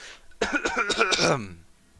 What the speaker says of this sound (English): let me clear my throat for a second.